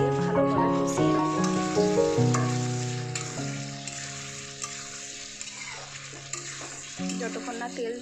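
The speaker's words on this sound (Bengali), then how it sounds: "এবার আলুগুলো দিয়ে ভালোভাবে কষিয়ে নেব।" Potatoes sautéing with ginger garlic paste in a pan, loud sizzling and repeated stirring scrapes over a tonal background hum.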